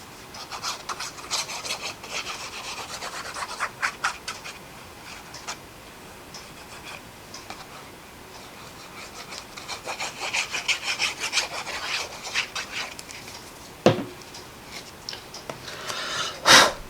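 Intermittent dry rubbing and scraping as a glued card layer is pressed down on a handmade birthday card, soft and close, with short bursts and a sharper tap near the end.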